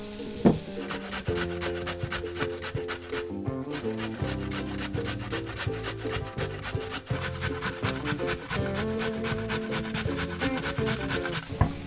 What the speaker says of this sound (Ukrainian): я натру морку на крупній терці.